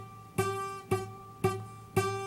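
Four evenly spaced strums of a guitar chord with a fretted string not pressed down firmly, giving a buzzy, rattling edge to each ringing chord, quiet and heard alone.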